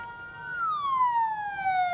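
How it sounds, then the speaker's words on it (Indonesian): A traffic police patrol car siren in Palangkaraya, Central Kalimantan, sounds at the start of a moment of silence: one loud, clear wail that holds and then slides steadily downward in pitch, with no talking. "Sirine dari mobil patroli Satlantas Polresta Palangkaraya ini menandakan dimulainya hening cipta"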